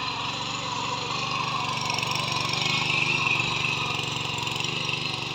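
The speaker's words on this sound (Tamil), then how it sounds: "இப்போ இந்த மிஷினை வாங்கிட்டு இதில் உழுகிறாரு பாருங்கள்." A small motorised plough engine runs steadily while tilling soil among banana plants, a continuous near, loud droning chug with no voices.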